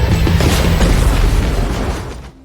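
A car explodes in a movie scene after its gas tank is shot, a loud, close, roaring blast that sustains a crackling rumble before fading out.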